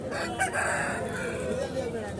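A rooster crows once at a country chicken market in Anantapur, its drawn-out call carrying clearly from close by above a low background murmur.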